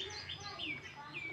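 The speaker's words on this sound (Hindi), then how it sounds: "चिड़िया चींची आती है" A small bird chirps in a home garden, several quick high tweets and short trills close by over a soft background, with faint voices nearby.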